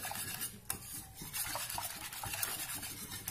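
Spoon scraping and stirring a thick rabdi mixture of milk, milk powder and wheat flour in a pot; soft irregular scrapes and a few sharp clinks against the metal, close and quiet, with no voices.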